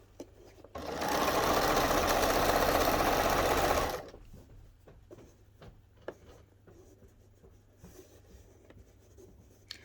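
A sewing machine runs a steady, loud stitching burst along an apron seam for about three seconds, then stops, leaving faint handling clicks and taps of fabric.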